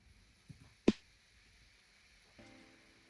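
Snappy snare with a mid-range EQ boost and cassette-style distortion, one sharp isolated hit standing out over a quiet background with a couple of fainter taps around it.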